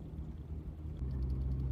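A 1959 Austin Healey Sprite drones along at a steady low pitch, a quiet rumbling engine note with a soft wash of road and wind noise and no voices.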